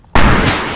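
A sudden loud explosion in the military shooter game Squad, a sharp blast after near silence that rolls into a sustained rumbling boom and slowly decays.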